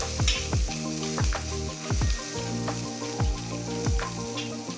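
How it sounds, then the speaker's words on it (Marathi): Garlic, green chillies and cumin fry in hot oil on a griddle for a crushed green chilli relish, giving a loud, continuous sizzle broken by repeated scraping stir strokes roughly once a second. "लसूण पण छान असं तेलामध्ये फ्राय करून घ्यायचं आहे"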